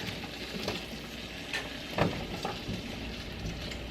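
Green beans sizzling in a pan with fresh garlic and soy sauce, a steady close frying hiss with occasional soft stirring scrapes and pops, no talking.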